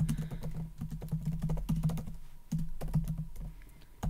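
Fast, steady typing on a computer keyboard as a Go command is entered in a terminal, with dense close keystrokes over a low background hum and a short pause midway, and no one speaking.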